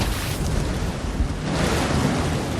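A butane, air and spark mixture ignites in a fire demonstration, producing a loud, dense roar of sustained explosive noise close by for a couple of seconds.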